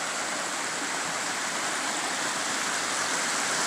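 A waterfall in Maine pours in a steady, full-bodied white rush heard up close, unbroken and even from start to end, with no voices.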